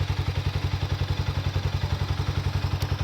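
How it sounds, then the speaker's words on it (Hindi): A Hero Mavrick 440 or Harley-Davidson X440 motorcycle engine idling with a steady, rapid low thumping beat and mechanical clatter, close and loud, holding even throughout. "इंजन साउंड सुनिए आइडियल कंडीशन पर"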